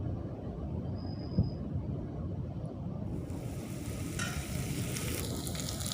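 Ginger, garlic and green chili paste frying in a pan makes a quiet, low crackle with soft stirring, turning into a brighter, fuller sizzle partway through.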